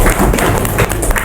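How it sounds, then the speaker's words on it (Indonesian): An audience at a school podcast session claps in a brief, dense burst of applause, loud and close, with no pauses through the short stretch. "Tepuk tangannya."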